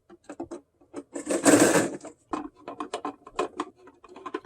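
A power screwdriver whirs in short bursts and one longer run, removing Phillips head screws from a Pentair Letro LL505G Kreepy Krauly pool cleaner, with small clicks and clatter of parts close by.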